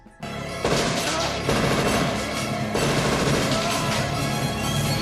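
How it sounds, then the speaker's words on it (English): Dense, continuous gunfire from the action film Demolition Man pounds loud and close, with sustained automatic bursts and crashing impacts blended into a thick action-scene mix. "Phoenix spends too much time shooting like a stormtrooper"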